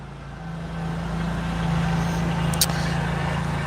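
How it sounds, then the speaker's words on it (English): A steady low engine drone rumbles outside as a small tractor mows nearby at a constant pace, with a brief higher-pitched squeak near the end. "The farmer has decided to farm. So he's out there with a little tractor thingy, just doing some mowing."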